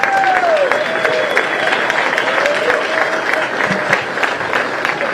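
An outdoor crowd at the opening ceremony of the 2023 PDGA disc golf World Championships claps steadily for an assistant tournament director, a dense wash of applause under faint background voices.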